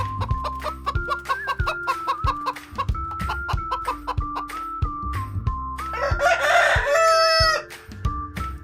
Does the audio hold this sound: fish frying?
no